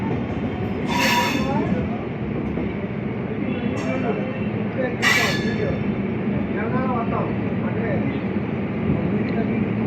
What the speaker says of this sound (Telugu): మన ట్రైన్ స్లోగా వెళ్తుంది.